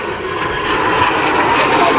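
A compact jet aircraft, derived from a jet bomber design, flying a display at Southport Airshow, with a loud, steady roar that stays close and even throughout.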